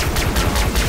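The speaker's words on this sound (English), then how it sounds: "Laser gun!" A laser gun firing in Far Cry 3: Blood Dragon, a rapid, loud burst of repeated shots that blur together into a continuous volley.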